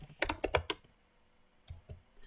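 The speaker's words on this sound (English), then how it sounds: "I'll type, I'm faster typing" Rapid clacking keystrokes on a computer keyboard, a quick burst of several taps followed by a pause and a few more scattered presses, close and fairly quiet.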